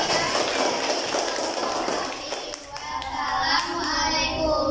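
Students in a classroom clap for a group after its presentation. The clapping is brisk and fairly close, with children's voices mixed in and a brief dip partway through.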